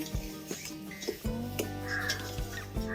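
A crow caws several times nearby, harsh calls repeating over a faint background hum.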